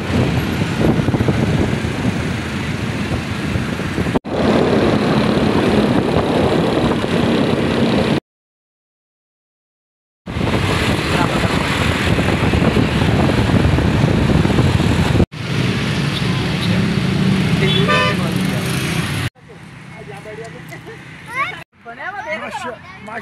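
Motorbike riding through busy road traffic near Islamabad, with a running engine and the hubbub of surrounding vehicles. People talk over the noise throughout, and the sound is cut by several abrupt breaks and one silent gap.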